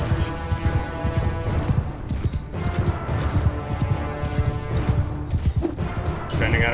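Horses gallop in Mount & Blade Bannerlord, a loud, dense rolling clatter of many hooves with occasional whinnies and clashing, mixed with voices.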